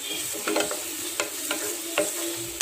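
Coconut oil sizzles steadily in a pan with frying onions, with a few sharp clinks and scrapes of a spoon stirring at intervals; no voices.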